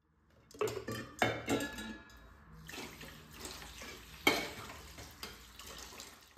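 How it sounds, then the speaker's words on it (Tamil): Dishes and pots clattering in a full kitchen sink during washing up, with a few sharp clanks of pans and cutlery over running tap water at close range. "சிங்க்கு ஃபுல்லும் பாத்திரம் இருக்குது."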